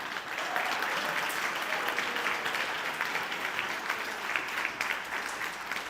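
A crowd at a luncheon speaking event breaks into full, continuous applause, steady and even from start to finish, with no voice rising above the clapping.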